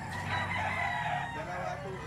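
Chickens and roosters at a poultry market in Bocaue, Bulacan, with fighting-cock stags among them, crowing and clucking in a dense, steady chorus close by.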